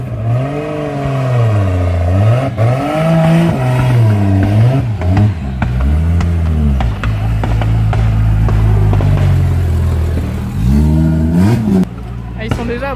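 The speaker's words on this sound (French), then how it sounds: "Bon, on retourne voir les voitures de travers." Drift cars at a drift festival in France rev and rise and fall in pitch, loud and close, with engine drones sweeping up and down under people talking.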